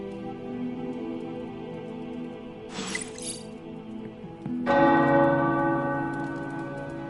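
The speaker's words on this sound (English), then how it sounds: "The tower bells are ringing." Tower bells ring in the video game Midnight Suns, a resonant sustained tone that swells after a brief crash of bright clatter midway, with the ringing growing louder toward the end.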